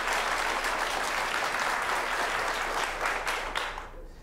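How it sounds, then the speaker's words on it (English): An improv comedy audience bursts into steady, dense applause, a full roomful of hands clapping continuously before fading slightly at the end. "No woos, just straight clapping so we can figure it out."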